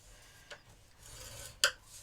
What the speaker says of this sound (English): we're going to score at 1 inch on all sides